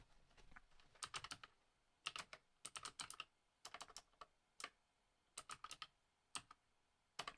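Keys clatter on a Raspberry Pi 500+ computer keyboard in close, crisp bursts of rapid typing separated by short pauses, quiet overall with no talking.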